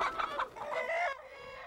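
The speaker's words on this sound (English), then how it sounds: "In a pasture recently used by the cattle sits a chicken coop on wheels called an eggmobile." Chickens cluck and squawk close by in a pasture around a wheeled chicken coop called an eggmobile, a dense, steady flock chatter that thins toward the end.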